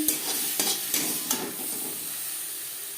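Vegetables frying in a pan with a bright, continuous hissing sizzle, punctuated by a few quick scraping stirs early on.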